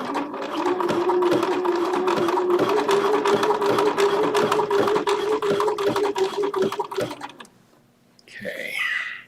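A Bernina sewing machine stitches dark brown wool fabric with a fast, steady mechanical whir and rapid needle ticking for about seven seconds, then stops abruptly, followed by a brief voice.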